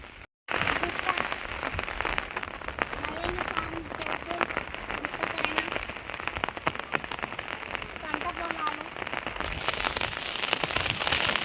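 Rain falls steadily onto a pond, a dense patter of drops that stays even and close throughout after a brief silent start.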